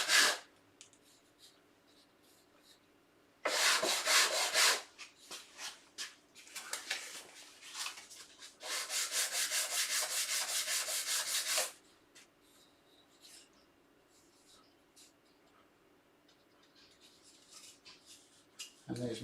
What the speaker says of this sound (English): And then a little bit of sand.